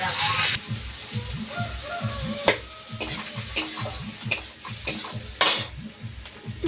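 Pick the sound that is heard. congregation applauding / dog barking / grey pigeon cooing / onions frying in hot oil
onions frying in hot oil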